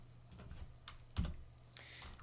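Computer keyboard typing in short, irregular clicks, with one sharper, louder keystroke near the middle, close and fairly quiet, with no talking.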